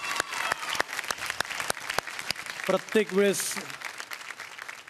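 A TV dance show audience breaks into brisk, loud applause, a dense run of claps with a voice speaking briefly over it.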